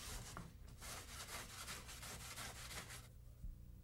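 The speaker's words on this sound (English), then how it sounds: "sand the edges with medium 100 grit sandpaper" Sandpaper of medium 100 grit scrubs the edges of helicopter body panels, a steady, close, rasping rub in quick repeated strokes that stops abruptly near the end, alone and fairly quiet.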